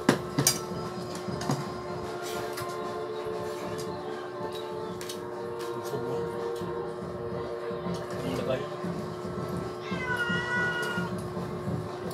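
A hungry house cat named Ming meows over and over at mealtime, a string of close, insistent cries repeating across the stretch against a low background hum.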